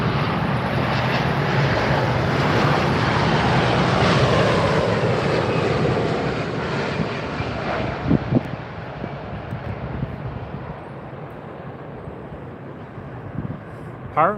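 Emirates airliner arriving on runway 27R at London Heathrow, a loud broadband engine roar that swells and then slowly fades over several seconds, with wind buffeting the microphone and faint voices nearby.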